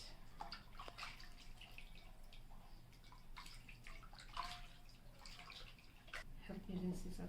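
Hands are rinsed in a bowl of disinfected water during a manicure, soft splashing and dripping at low level with small gurgles, quiet and close, while someone speaks over it.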